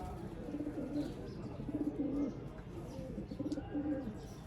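Sialkoti rooftop pigeons coo softly in a few repeated low phrases, faint beneath a steady outdoor background hum.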